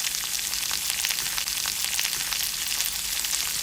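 Chopped garlic and shallots sauté in hot oil for a spinach stir-fry. A dense, even sizzle crackles steadily throughout, close up and with no talk.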